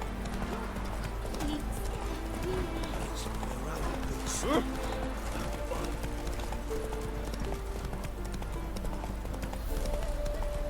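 A horse galloping in The Witcher 3: fast, steady clip-clop hoofbeats running throughout, with a brief whinny partway through, all under a dense game soundscape with voices.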